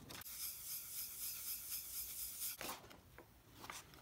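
A Stanley No. 5 plane iron, about a century old, is rubbed on a 400 grit sharpening stone, giving a steady close rasping scrape that breaks off, then returns in short strokes.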